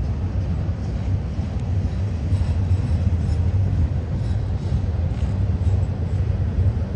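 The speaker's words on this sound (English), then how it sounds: "could be slowing down for this train here right in front of us" A double-stack freight train rumbles on the steep Cajon Pass grade in California, a steady, loud low drone with engine hum and no break, heard alone without talk.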